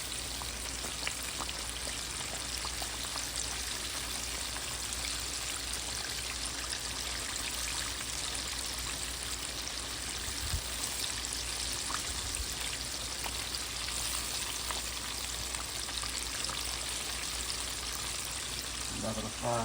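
Fish and shrimp frying in hot oil for a fried fish dinner: a steady, close sizzle and crackle that continues throughout at an even level, with a few brief bumps near the end.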